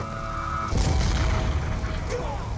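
A deep grenade boom bursts through a dense noisy Call of Duty: Black Ops 2 soundscape, followed by rumbling and crackling debris; a steady tone fades out just before the blast.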